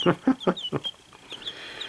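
Rhode Island Red chicks chirp in high, thin peeps while being picked up by hand. A few low voiced bursts come at the start, then scattered chirps continue more faintly.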